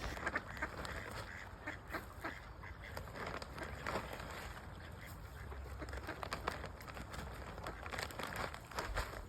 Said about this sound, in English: All the common mallards and a baby swan again.